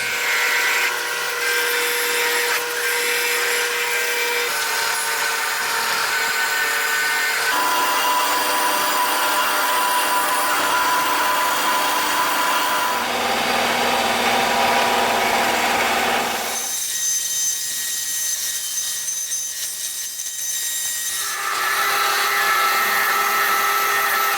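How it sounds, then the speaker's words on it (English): Bench-mounted wire wheel spinning steadily while a rusty 1930s Lenox screwdriver is pressed against it, a continuous loud grinding whir with a brief dip in load partway through before it bites again. "Bring that over to the wire wheel and see what that does."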